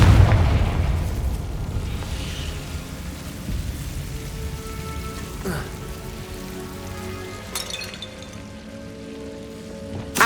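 Confringo blasting spell detonating in Hogwarts Legacy catacombs: a heavy boom at the start followed by crackling, rain-like debris patter, with a couple of further sharp bursts later, moderately loud amid ambient rumble.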